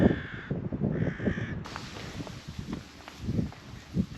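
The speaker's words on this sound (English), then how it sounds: "as usual with rooks, they're kind of chattering away and flying around together." Rooks call with harsh, repeated caws from a nesting tree in an ancient woodland in June, several birds chattering close by over faint rustling.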